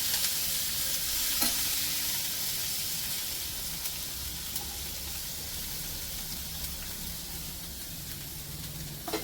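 Cabbage, capsicum, onion and beet fry in butter in a pan, giving a soft, steady sizzle and hiss with occasional stirring scrapes, fairly quiet and close, with no voices.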